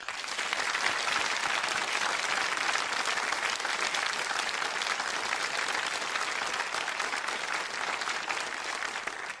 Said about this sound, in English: please greet and applaud John Braxton and John Mayhew